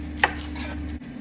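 A single knife cut slicing an onion in half on a board, one short crisp chop, close and quiet, with no other sound.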